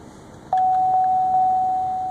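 A single high electronic tone from a Pontiac Grand Prix GXP dashboard with traction control off and ABS and brake service warnings starts suddenly and holds steadily, a continuous warning beep sounding close and clear over a quiet background.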